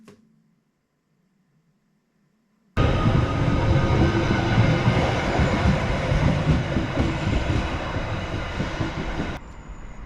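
A train rumbles past close by at Walton station, loud and steady with a rattling clatter of wheels, after a few seconds of near silence at the start.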